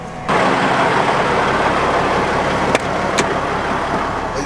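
A semi truck on an Ohio farm during the fall harvest drives along, its engine a loud, steady diesel drone from start to finish, with a couple of brief clicks partway through.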